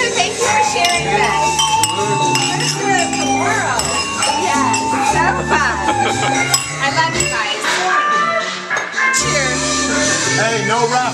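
Glasses clink in a celebratory toast during a birthday night out in Kernville, bright chiming over loud background music and lively crowd chatter.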